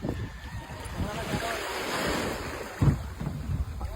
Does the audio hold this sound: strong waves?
yes